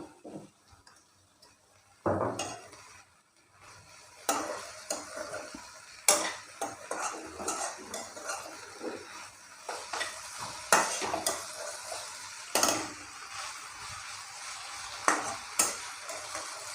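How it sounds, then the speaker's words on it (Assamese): Spoon stirring fiddlehead ferns in a frying pan, with intermittent scraping strokes and soft sizzling, close and clear with no talking. "এতিয়া ইয়াক আমি ভালদৰে লৰাই ল'ম।"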